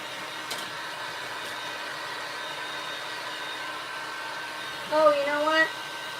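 A hair dryer blows a steady, even whir over freshly cut craft pieces, with a brief louder surge near the end.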